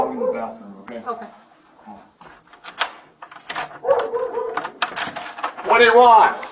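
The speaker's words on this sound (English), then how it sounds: "I'm going to put my dog in the bathroom," A dog whimpers and yips inside a home amid close, agitated talk, thin whines breaking through between the voices, with a door-like thud in the mix.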